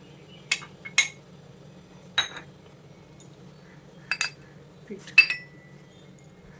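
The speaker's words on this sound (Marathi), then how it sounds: "आपण ते सगळं मिश्रण मिक्स करून घेऊया" A spoon knocking against a bowl while coriander is mixed with spices and besan for kothimbir vadi, a handful of sharp close clinks spaced irregularly over a low steady background hum.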